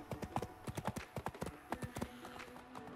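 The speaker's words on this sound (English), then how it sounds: "I don't know if I'm actually running full speed." Horse hooves galloping in a DayZ horse mod video game: a rapid, uneven run of loud clip-clop hoofbeats, close and continuous, thinning toward the end over steady game ambience.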